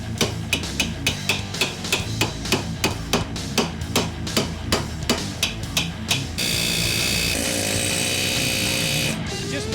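A hand hammer strikes metal in a fast, steady series of sharp, ringing blows, close by, while working on a Lexus Altezza SXE10 rear upper arm bushing, then gives way to a continuous mechanical whirring hum.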